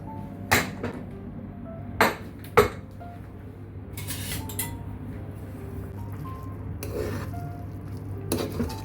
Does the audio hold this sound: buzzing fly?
no